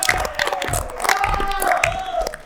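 Cheering and applause from a crowd at a high school graduates' celebration, greeting the school coordinator Marcão; shouts and whoops rise over loud clapping for a few seconds without pause.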